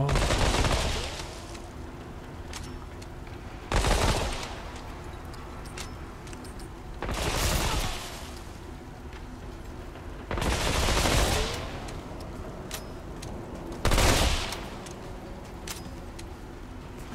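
An SMG rattles in Remnant 2 gameplay, firing in five separate sustained bursts of rapid shots, each lasting around a second, with quieter game ambience between them.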